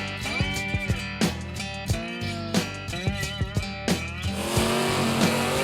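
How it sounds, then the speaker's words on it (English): Purpose-built pulling tractors with turbocharged engines making thousands of horsepower roar loudly and continuously at a pro tractor pulling event, with repeated revving surges and pitch sweeps, the sound thickening into a dense, harsh roar near the end. "Tractor pulling."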